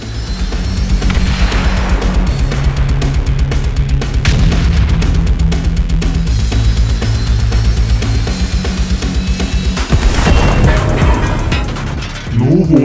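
An animated tank battle fills the stretch with loud, dense mechanical rumbling and rattling, with repeated heavy booms and a bigger blast surge near the end, like a bomb exploding amid the clatter.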